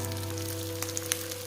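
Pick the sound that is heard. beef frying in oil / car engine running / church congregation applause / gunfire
beef frying in oil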